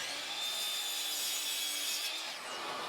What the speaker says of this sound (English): finish cutting out all four sides of the box at the miter saw